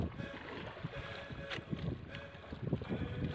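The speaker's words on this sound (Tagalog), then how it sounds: "Ang bilis ng takbo ng bangka. Natangay ng hangin." Small boat speeding across rough open sea off Bagamanoc, Catanduanes in a storm, with continuous rushing water and heavy wind buffeting the microphone, a steady dense roar with occasional surges and splashes.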